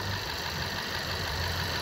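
A car engine idles with a steady mechanical knock from the intake manifold swirl flaps, a continuous close rumble with a faint rhythmic tapping running through it and no talking.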